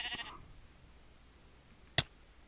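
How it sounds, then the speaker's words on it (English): Single short bleat from a vampire sheep in the Minecraft video game, heard faintly after a brief burst of other game noise, then a sharp, bright click-like sound near the end against quiet background. "Vampire sheep."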